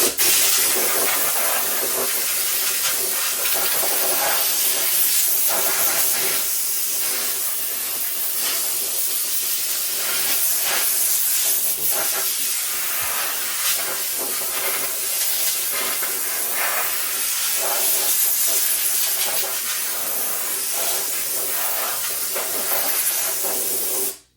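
Compressed air blasts to dry freshly sandblasted metal parts in a garage, a loud continuous hiss with pulsing surges and short gaps as the nozzle moves over nooks and crannies.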